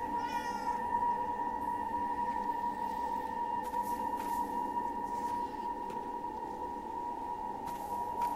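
A cat in the video game Forspoken lets out a short high meow at the start, over a steady humming game soundtrack.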